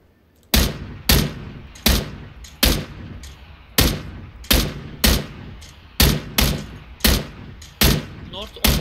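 Single gunshots in the battle royale video game PUBG ring out one by one, about a dozen loud, sharp reports spaced roughly a second apart, each with a short echoing tail, and no talking over them.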